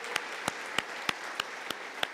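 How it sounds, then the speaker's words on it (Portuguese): A church congregation applauding for the parents, a soft steady patter of clapping with regular distinct claps close by, roughly seven evenly spaced beats over a short stretch. "um aplauso para os pais"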